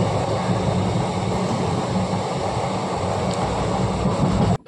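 A moving passenger train heading out of Howrah toward Kharagpur, heard from inside as a steady, loud low rumble and rushing noise that runs throughout and cuts off abruptly at the end.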